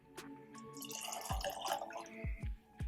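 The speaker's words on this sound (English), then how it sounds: "let's open it up with some water and see what happens" Water drips and trickles faintly into a glass of Glenkinchie 12 single malt Scotch whisky, a few distinct drops with quiet liquid pouring between them, close and soft.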